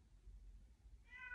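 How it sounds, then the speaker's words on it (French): A cat in heat lets out a short, loud meow near the end, rising over a low background rumble after a second of near-quiet. "C'est mon chat qui miaule, je ne sais pas si vous l'entendez, mais c'est les chaleurs"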